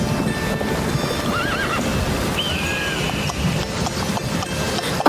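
A horse named in a Hindi moral horror story neighs in clear rising whinnies over steady clip-clop hoofbeats, loud and continuous throughout with a busy outdoor background.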